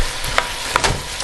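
Tomatoes for a creamy tomato basil soup sizzle in a hot pan, a dense bright hiss with two sharp clicks from a utensil pressing them down, close and without talk.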